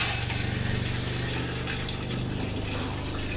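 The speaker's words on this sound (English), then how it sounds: "Now I'm flushing the toilet." Toilet in a 2023 Reflection fifth wheel RV flushing with the water pump running: a steady, close rush of water with a low pump hum underneath, continuous for a few seconds.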